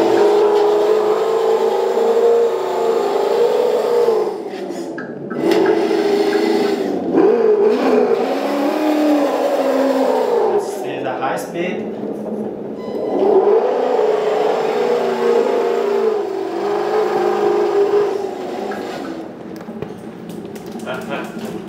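A 1/10 scale 4x4 RC off-road crawler car runs at middle speed, its small electric motor giving a steady whirring hum that rises and dips, with someone talking over it at times.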